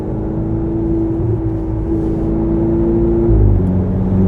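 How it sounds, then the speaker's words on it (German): A 2018 Ferrari 488 Spider 70th Anniversary engine drones loudly and steadily from inside the car, holding a constant note before shifting lower near the end, with no talk. "Cooles Auto und immer der Ferrari-Sound präsent."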